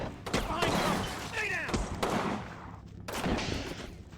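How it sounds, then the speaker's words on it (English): In the computer war game Combat Mission Normandy, a Panzerfaust is fired amid loud battle noise: heavy booming blasts and sharp bangs keep coming throughout, close and dense, with no pause. "She's shooting a fucking Panzerfaust at us."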